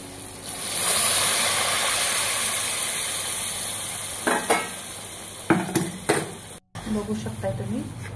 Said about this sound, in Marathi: आपल्याला या मसाल्याला तेल सुटेपर्यंत भाजायचं 1-2 मिनिटासाठी